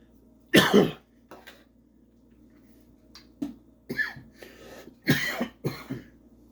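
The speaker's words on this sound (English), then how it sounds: "I got the cough." Several harsh, separate coughs from a man with a cold, close to the microphone, irregularly spaced with a quiet hum between them.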